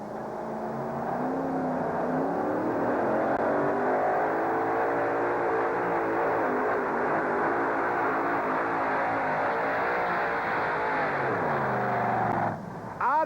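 Two-wheel-drive pulling vehicle at full throttle during a sled pull, a loud sustained engine roar that holds steady for the whole pull before dropping away near the end.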